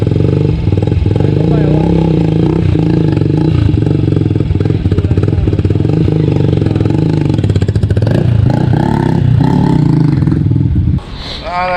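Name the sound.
motorcycle engine being cranked and revved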